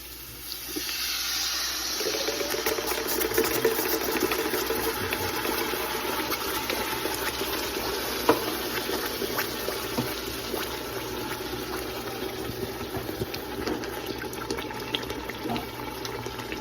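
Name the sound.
pouring canned crushed tomatoes into sauce pot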